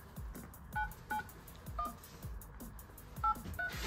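Telephone keypad dialing, a string of short DTMF tone beeps at uneven spacing, close and fairly quiet, with low thumps from the key presses beneath them.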